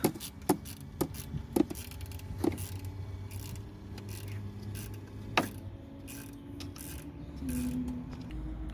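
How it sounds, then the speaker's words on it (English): A 5mm hex key works a clamp on an Audi A6 2.0 TDI near the AdBlue injector. Close, sparse metallic clicks, taps and ratcheting come against a low background hum, with no speech. "just using a little 5mm hex here to open the clamp"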